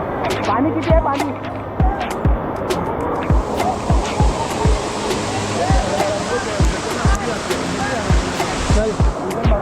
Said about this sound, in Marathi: हा वॉटरफॉल बघू शकता. जबरदस्त एकदम आहे, जबरदस्त.